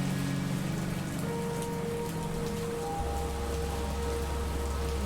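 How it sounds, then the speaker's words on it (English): Steady heavy rain pours down on a surface outdoors at a graveside, a dense unbroken hiss with no talk, while a low drone and faint tonal hum sit underneath. "this downpour I wasn't expecting anyone here"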